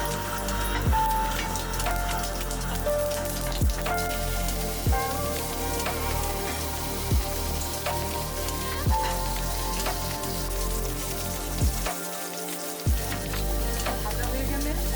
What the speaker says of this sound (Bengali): সর্ষে ফোড়ন দিয়ে দিচ্ছি। তেল গরম হয়ে গেছে।